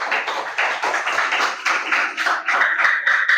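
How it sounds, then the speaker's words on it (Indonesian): A classroom of fifth-grade pupils applauds group 1, a dense, steady patter of many hands clapping at close range for a few seconds, loud and continuous without a clear break. "tepuk tangan untuk kelompok 1"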